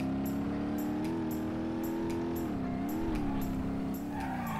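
A Nissan S13 200SX drift build in BeamNG.drive, its engine holding a steady high-revving tone that wavers and dips as the clutch is kicked, with tire squeal and a regular ticking above.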